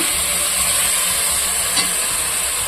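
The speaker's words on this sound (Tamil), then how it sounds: "இப்போ இதுவுமே கொஞ்சம் மஞ்சள் பொடி போட்டுக்கலாம். தக்காளி வதங்கிட்டு" Tomatoes sauté with turmeric powder in a pan for country chicken curry, giving a loud, steady, close sizzle and hiss with a faint stir partway through.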